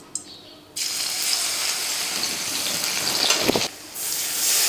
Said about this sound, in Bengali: দিয়ে দিচ্ছি খানিকটা জল